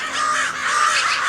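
Crows gather on a residential street with magpies, mobbing something in a spruce; their harsh, loud caws overlap in a continuous raucous chorus close by.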